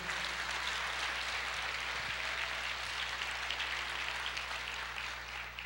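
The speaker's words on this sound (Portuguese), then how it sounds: "Você pode aplaudir o Senhor?" Church congregation applauding the Lord during a service, a dense steady wash of clapping that fills the whole stretch without letting up, with a low hum underneath.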